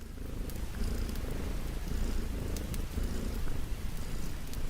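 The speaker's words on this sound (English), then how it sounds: "God, I love this cat." A cat purring steadily at night in the video game STARCULT, a continuous close, soft rumbling that rises and falls in gentle waves, with faint ambient hiss behind it and nothing else clearly audible.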